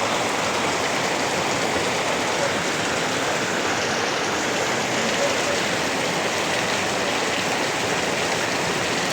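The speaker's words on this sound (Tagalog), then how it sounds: "Grabe yung lakas ng ulan na to." Heavy rain pours steadily over a vegetable garden, a dense, unbroken hiss of drops striking leaves and soil, close and loud for the whole stretch with no break.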